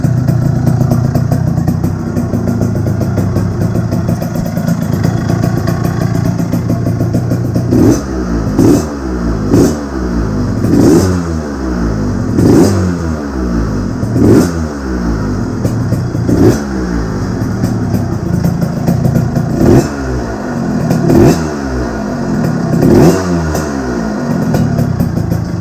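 A Derbi motorcycle fitted with a wide Metrakit exhaust silencer first idles steadily, then is revved repeatedly in sharp rising bursts, loud and close with no talking.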